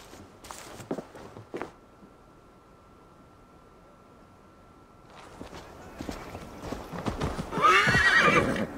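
Scattered horse hoof clops sound at first in the video game Assassin's Creed Valhalla, then quiet, then the hooves pick up again, ending in a loud close whinny.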